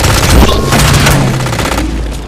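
Gunfire in Halo 5 Guardians multiplayer: loud, dense volleys of shots and impacts crowding together nearby, with a steady rattling texture that tapers slightly toward the end.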